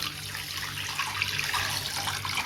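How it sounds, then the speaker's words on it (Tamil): Two glasses of water poured onto sago in a cooking pot, a steady close splashing gush that runs unbroken and fairly loud with no talk. "ரெண்டு கிளாஸ் தண்ணி வந்து சேர்த்துக்கலாம்"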